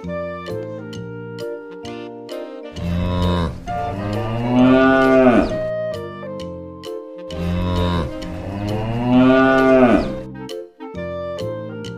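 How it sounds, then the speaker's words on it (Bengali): A cow and calf moo in two long, loud, drawn-out calls a few seconds apart, set against steady tonal music. "গরু বাছুর দাঁড়িয়ে আছে।"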